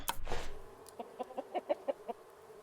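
A chicken in the survival video game Raft clucks in a quick run of short, clipped calls, close and fairly clear, after a brief louder burst at the start.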